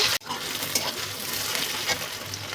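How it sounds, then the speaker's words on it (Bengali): Onions and whole spices sizzle steadily in a hot pan, with a stirring scrape near the start and continuous close frying hiss throughout. "পেঁয়াজটাকে এবং সম্পূর্ণ মশলাগুলোকে হালকা ভাজা ভাজা করে নিয়েছি"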